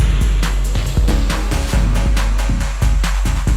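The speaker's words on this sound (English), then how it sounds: "That's a little loud. Whatever that echo thing was." Electro remix of a techno track with an echo effect on repeating chord stabs over a pounding kick, loud rhythmic hits trailing off in delayed repeats.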